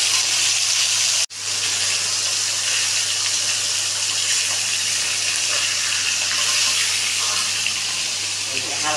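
Water being poured into a pan of hilsa fish curry with eggplant, a loud, steady rushing gush with hissing that continues almost unbroken apart from one brief cut.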